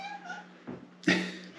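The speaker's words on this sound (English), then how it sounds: "That's a cat." A cat meows once, loud and close, after a short softer vocal sound, with a quiet background around it.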